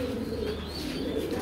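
Racing pigeon chicks cooing close by in a loft, a soft, low, continuous throaty murmur lasting the whole short moment.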